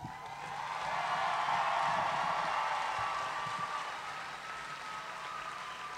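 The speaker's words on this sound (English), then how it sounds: "One more round of applause." A large crowd applauds the Clinton-Massie High School Class of 2022 at a graduation ceremony, a broad wash of clapping that swells in the first two seconds and then eases slightly while continuing.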